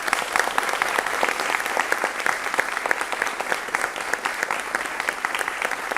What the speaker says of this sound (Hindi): जोरदार तालियों के साथ आप स्वागत करें